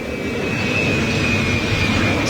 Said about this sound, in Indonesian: Puluhan pesawat tanker Amerika Serikat terlihat di Bandara Ben Gurion, Israel.